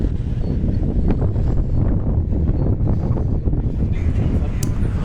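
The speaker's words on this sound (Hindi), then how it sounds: "यहाँ पे कितनी तेज़ हवा चल रही है" Strong wind buffets the microphone in a steady, loud, low roar that persists throughout with no break, on a high cliff edge in Harshil valley.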